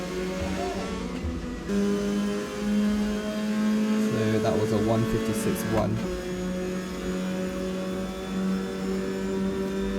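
Race car engine in the Assetto Corsa racing game, a loud steady drone held across a straight with pitch shifts and revving as gears change and another car closes on the inside, under a commentator's voice.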